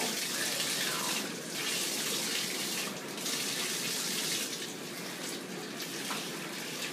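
Running tap water pours steadily while a pet gets its first bath, a continuous close gush of water with slight shifts in intensity and no voices.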